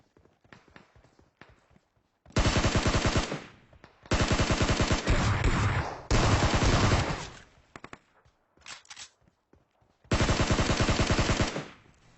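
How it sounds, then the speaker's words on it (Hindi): Bursts of automatic gunfire in PUBG Mobile, four loud sustained volleys separated by pauses filled with scattered single shots and faint footsteps. "आगे की तरफ से यार बहुत सारी फायरिंग की साउंड आ रही थी"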